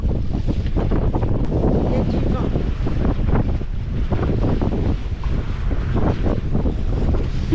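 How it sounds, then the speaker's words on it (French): Strong, steady wind roars across the microphone aboard a sailboat, with rough buffeting gusts and a broad rushing noise throughout, as if out on open water. "il y a des belles rafales là qui arrivent"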